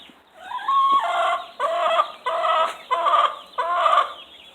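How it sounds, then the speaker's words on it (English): Rooster calls on a farm with several roosters, a close series of five or six loud, harsh bursts in quick succession. "we have someone else that's over there making a rooster noise"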